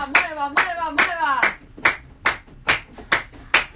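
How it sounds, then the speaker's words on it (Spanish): Audience clapping in rhythm at a cuarteto radio show, a steady series of about nine claps, the first few carrying sung or chanted voices over them, loud and close. "Qué palmas grande que tiene la gente"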